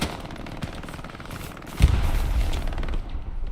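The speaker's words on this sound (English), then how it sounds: "You hear the gunshots." Rapid bursts of automatic gunfire crackle in quick succession in PUBG, followed by a louder heavy blast, with game sound effects in the background.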